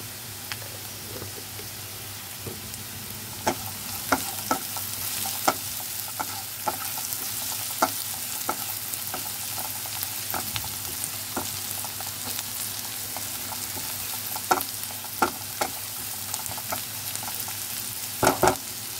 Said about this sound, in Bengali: একটু হালকা ফ্রাই হতে হবে পেঁয়াজটা